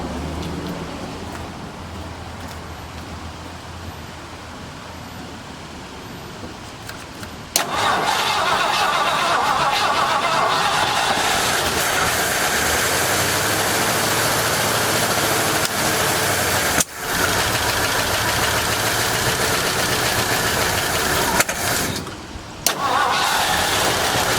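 A 1972 Mercury Montego, its carburetor filter removed, cranks and fires after a quiet stretch, then runs at a loud, rough idle, briefly cutting out and catching again near the middle and end.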